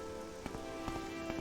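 Rain falls in the video game Morrowind. A faint, steady wash of rain sits over a low ambient hum, with a few soft droplet taps spaced through it.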